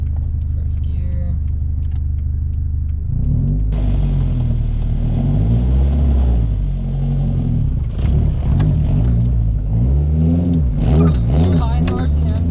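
Manual car engine revving while pulling away in first gear, its pitch rising, dipping and climbing again in loud sweeps, close up inside the cabin, with people talking over it.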